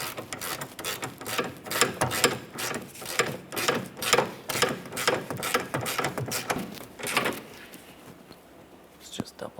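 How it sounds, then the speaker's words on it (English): Torque wrench tightening rear lateral link bolts on a 2007-2017 Jeep Patriot, a fast run of close mechanical ratchet clicks lasting several seconds before trailing off, with a voice talking quietly under it. "Our torque wrench, 26 foot-pounds."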